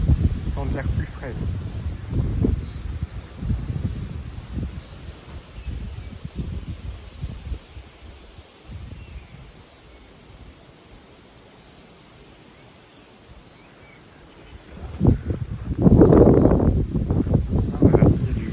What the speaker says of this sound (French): Ah, voilà, il y a du vent maintenant.